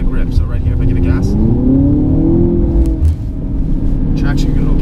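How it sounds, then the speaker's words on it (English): A 2018 Audi TT accelerates hard on a wet, rain-soaked road, its engine note climbing and rising in pitch under a voice, with a brief dip before the rumble resumes. "So right here, if I give it gas,"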